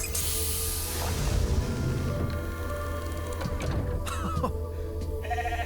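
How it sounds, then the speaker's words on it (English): A sheep bleats in the video game The Alters, its wavering cry sounding over a steady hum and scattered game effects, with no talking. "Is that a reference to Dolly the sheep?"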